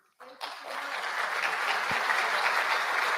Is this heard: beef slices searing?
no